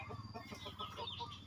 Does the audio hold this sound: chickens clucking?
yes